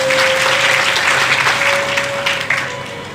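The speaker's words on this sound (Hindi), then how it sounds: "एक बार जोरदार तालियां" Loud, sustained applause from an audience at a Bhagwat Katha religious discourse gathering, steady clapping throughout with a faint tonal hum underneath.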